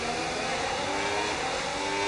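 A Formula 1 car engine in the F1 26 video game roars steadily at high revs, dense and constant throughout with no pauses, loud and close.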